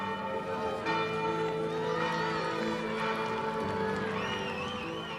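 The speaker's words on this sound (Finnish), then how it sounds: "Kirkonkellot kajahtivat jälleen eri puolilla Ranskaa, mutta tällä kertaa rauhan merkiksi." Church bells ring out across France as a sign of peace, a dense, sustained wash of overlapping tolling that fills the whole stretch with steady, reverberant ringing and no clear pauses.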